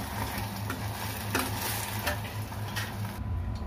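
Fried potato pieces being tossed and mixed in a hot pan for chilli potato, a steady sizzle with scattered scraping and clinking from the stirring utensil, no speech.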